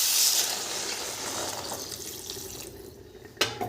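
Water pours into a pan of frying ripe jujube plums, a loud gushing splash that fades into a softer bubbling hiss, ending with a short clink.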